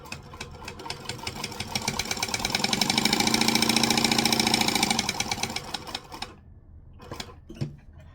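A sewing machine top stitches fabric in a fast, even mechanical chatter that builds, holds loud for a few seconds, then stops, followed by a few faint clicks and handling sounds.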